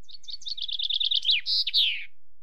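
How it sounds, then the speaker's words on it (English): A small bird tweets alone, a quick run of repeated bright chirps speeding into a trill and ending in two longer sweeping whistles, close and clear. "and a bird."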